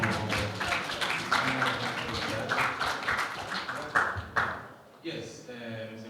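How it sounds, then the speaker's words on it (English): Audience applause at a dialogue event, scattered clapping running under a speaking voice, then fading out near the end. "Please clap much more."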